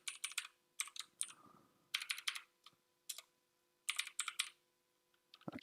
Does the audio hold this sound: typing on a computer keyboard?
yes